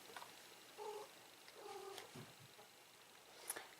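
A domestic cat makes faint, soft sounds in a quiet room, with brief low murmuring vocal chirps and a gentle purr-like rumble, no speech.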